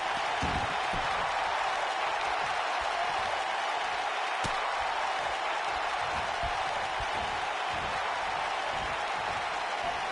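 Crowd applause fills a WWE wrestling video game arena, a dense continuous wash of clapping and hiss that stays level throughout, with one sharp click partway through.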